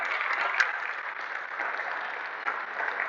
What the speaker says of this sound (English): Yes, that's worth applauding for.